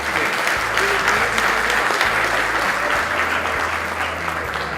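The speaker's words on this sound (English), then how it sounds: "Please give him some applause." Steady applause from a conference audience at CANTO 2016 greeting the chairman of Digicel Group, a dense, even wash of many hands clapping that lasts throughout, loud and with no one speaking over it.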